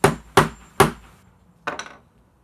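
A bolt is hammered into the wooden arm of a Muskoka chair during assembly: three sharp, evenly spaced knocks, then a pause and a quick double tap, loud and close with no talking.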